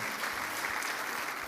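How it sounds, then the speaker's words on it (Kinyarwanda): A church congregation applauding together, a dense, even wash of many hands clapping continuously at moderate volume with no voices standing out. "Munyemerere duhuze ibiganza nanone dukomere Imana amashyi"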